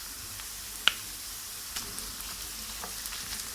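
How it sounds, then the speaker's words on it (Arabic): Kefta frying in a pan with softened onion, giving a steady close sizzle with one sharp snap early on and light stirring scrapes afterward. "غادي نزيدو عليها الكفته"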